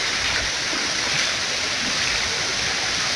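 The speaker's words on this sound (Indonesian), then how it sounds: "Saya tunjukkan air terjunnya, Mita." Donok Waterfall in Batu Ampar village, Bengkulu, Sumatra, Indonesia pours in a steady, dense broadband roar, constant and fairly loud with no breaks, no voices over it.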